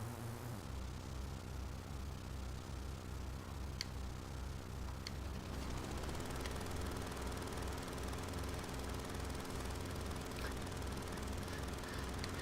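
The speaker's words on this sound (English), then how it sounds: "Your helicopter sounds like a lawnmower. You might want to get that engine looked at." Helicopter engine in Final Fantasy VII, a steady low mechanical drone with a rapid ticking pulse, like a lawnmower, running continuously throughout and a little fuller in the second half.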